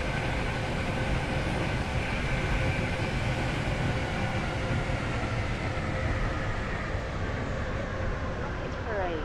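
Three-coach train in the Roblox game Stepford County Railway pulling into Hampton Hargate station, a loud, steady rolling rumble with broad hiss running unbroken through the whole stretch.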